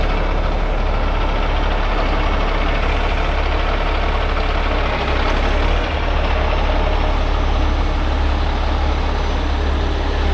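A semi truck tractor's diesel engine idles loud and close, a steady, unbroken low rumble that runs the whole time without any voices.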